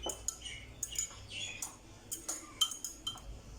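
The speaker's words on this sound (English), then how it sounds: "I'm going to whisk this together, stir it together." A fork whisking about 300 ml of liquid in a bowl for paratha dough, making quick clinks and taps against the bowl in uneven bursts, close and fairly quiet.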